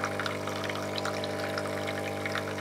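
Water runs through a DeLonghi ECAM 22.110B coffee machine during rinsing, a steady close pouring and trickling flow with a constant low machine hum underneath, no talk.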